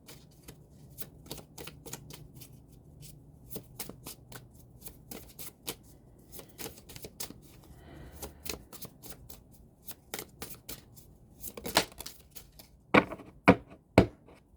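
Tarot cards are laid out one after another, making a run of crisp, close slaps and flicks in an uneven rhythm that grows louder and sharper toward the end, with no talk.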